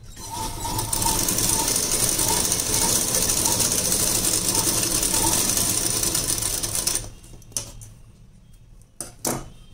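A sewing machine stitches a blouse with a fast, steady mechanical whir and clatter for several seconds, then stops, leaving a few sharp clicks and handling noises.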